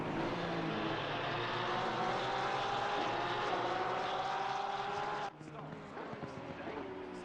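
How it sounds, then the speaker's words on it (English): A Porsche race car engine drones loud and steady from onboard during a circuit race at Valencia, a sustained high whine that drops abruptly near the end as the revs fall. "We were on board, getting the sound of the Porsche engine."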